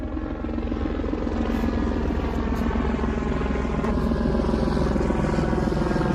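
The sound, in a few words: helicopter flying overhead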